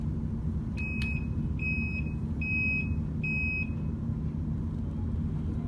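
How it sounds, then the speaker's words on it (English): A PPE respirator unit, part of Level C protective gear, gives four short, evenly spaced electronic beeps as it powers on, clear and alone over a steady low hum. "What you'll get when you turn it on is you'll get 4 initial beeps."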